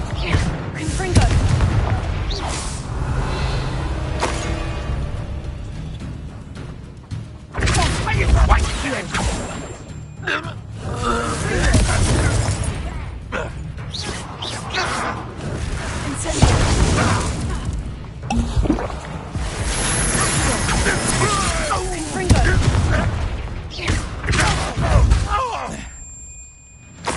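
Repeated Confringo fire spell explosions in the video game Hogwarts Legacy, loud booming blasts and crackling bursts recurring throughout, layered with game music and effects.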